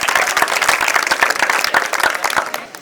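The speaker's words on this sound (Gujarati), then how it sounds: "એમનો આભાર માનવા એક વખત તાળીઓ થઈ જાય" Loud, brisk applause from a crowd at a school's Independence Day event fills nearly three seconds and tapers off at the end, with dense overlapping claps and no speech.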